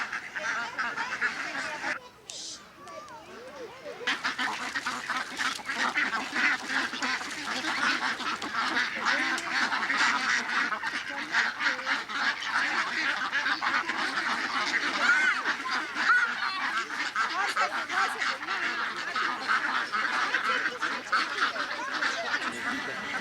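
Ducks quack steadily in a dense, busy chorus nearby outdoors in Athens, with a brief lull near the start before the continuous quacking resumes.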